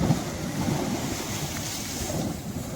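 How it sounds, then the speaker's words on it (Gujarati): Water spraying up with a rushing, surf-like roar near Ratneshwar Mahadev temple, a loud continuous wash mixed with wind buffeting the microphone. "આ પાણી ઉડે છે."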